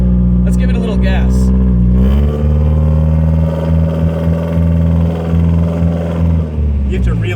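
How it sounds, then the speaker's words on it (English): A 1997 BMW Z3 engine revs loudly and climbs in pitch as the car accelerates, heard steadily from inside the cabin with people talking over it. "Let's give it a little gas."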